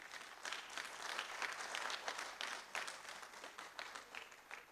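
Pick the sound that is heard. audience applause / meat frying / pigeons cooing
audience applause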